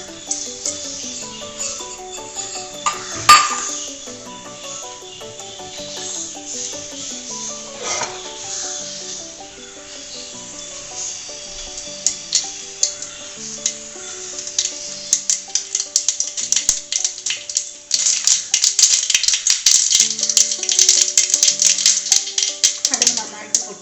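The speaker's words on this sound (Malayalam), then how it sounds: "വെളിച്ചെണ്ണ ചൂടായിട്ടുണ്ട്. കുറച്ച് കടുക് ഇട്ട് കൊടുക്കുക." Mustard seeds splutter in hot coconut oil in a pan. Sparse sharp pops and clicks at first grow into dense, rapid crackling toward the end, over soft background music.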